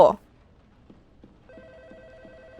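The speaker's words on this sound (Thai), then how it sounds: "มาแล้วโทรศัพท์มาค่ะ" Telephone rings inside the Roblox game The Hotel Experience, a repeating electronic ring pattern starting partway through after a brief loud burst, fairly quiet and steady.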